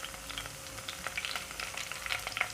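Whole spices such as cumin and bay leaves crackle and pop in heated oil and ghee, a dense close sizzle with small sharp spits throughout, no voices.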